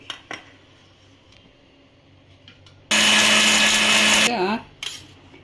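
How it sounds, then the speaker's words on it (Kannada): A mixer grinder whirs loudly for about a second and a half, grinding dry coconut, coriander seeds and green chillies, preceded by quiet clinks and handling in a kitchen and followed by a short clatter. "ಈಗ ಕೊಬ್ಬರಿ, ಧನಿಯಾ, ಮೆಣಸಿನ್ಕಾಯಿ ಮೂರನ್ನು ನುಣ್ಣಗೆ ಹೊಡ್ಕೊಂಡಿರೋದು"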